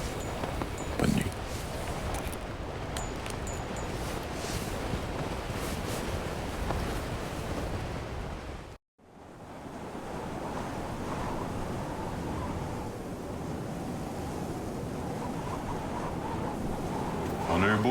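Wind gusting along the Baffin Island coast, a steady, loud rushing roar buffeting the microphone that drops out briefly midway, then resumes just as strongly.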